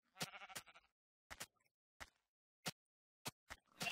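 Sheep bleating in the Minecraft video game, several short separate bleats in an irregular rhythm with brief silences between them, clear and close, no talk.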